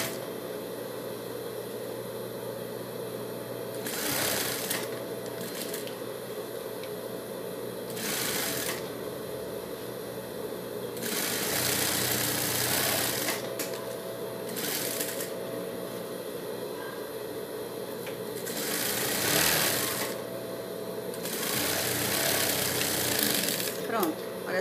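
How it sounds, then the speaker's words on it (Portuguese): A sewing machine stitches all the way around the edge of a fabric face mask, running in several loud bursts with pauses between them, under a steady background hum. "E vou vir costurando toda a volta da minha peça,"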